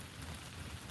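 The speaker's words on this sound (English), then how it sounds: "So it's raining now." Rain falls steadily in a Kenyan forest, a dense, even hiss of drops on leaves and ground, heard close and alone.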